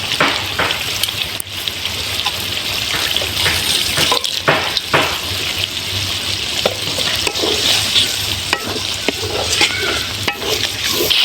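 Shrimp frying in a pan with turmeric, dried chili powder and salt, stirred steadily under a continuous loud sizzle, with scraping strokes and some running-water sounds from a tap alongside.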